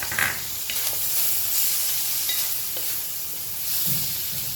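Matki bhaji frying with roasted grated coconut in a pan on a lowered gas flame, a steady close sizzle with soft stirring scrapes and no talk.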